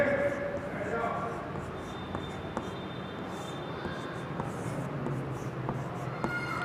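An equation is written by hand for a Class X linear equations lesson, with a steady scratchy pen-on-paper rustle running throughout under a low background hum, while a person talks.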